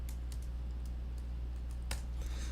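Soft clicks of a computer keyboard shortcut, Command E, sound as a few light, separate keypresses close by against a quiet background.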